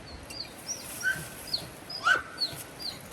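Several short, high-pitched whimpers and yelps from a dog, spaced irregularly over faint background hiss, with no talking.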